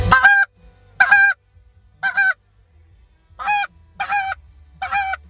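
A goose call blown in short bursts, six loud honking notes in uneven groups with brief gaps between them, close and clear with no talking.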